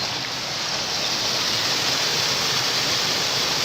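Water pours steadily into a canal lock chamber on the Thames at Teddington, a dense, even rushing that fills the clip without a break and with no voices over it.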